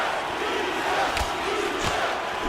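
A UFC arena crowd roars steadily throughout, a dense wash of massed voices that may carry a chant, with a couple of brief sharper bursts rising above the din.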